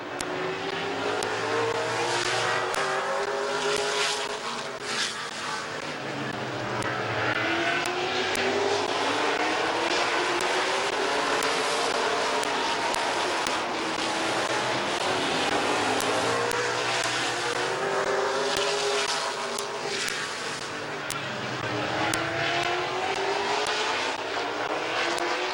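Late model race cars run a heat race at Midvale Speedway. Their engines make a loud, continuous roar with rising and falling revs as the pack passes, heard alone without commentary.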